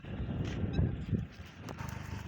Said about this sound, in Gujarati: અટાણે ગાયું ભેંસું જો સરેલમાં જ આવી છે